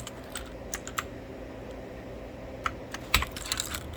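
Irregular key presses on a Nubwo X800 computer keyboard, a few scattered clicks with brief pauses and a small burst near the end, quiet and close with no talking.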